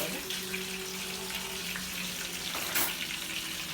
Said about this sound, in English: So we allow that to fry for roughly 5 minutes on one side